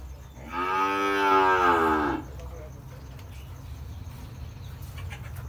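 A Sarda cow with her calf on a farm gives one long, loud, tonal moo lasting a couple of seconds, set against steady background farm noise.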